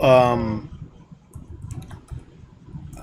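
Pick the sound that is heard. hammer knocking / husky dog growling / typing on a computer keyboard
typing on a computer keyboard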